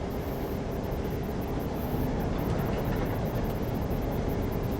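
A train rolls past on New Zealand's Midland Line near Otira, a steady, loud broadband rumble of wheels and cars that holds evenly throughout with no voices over it.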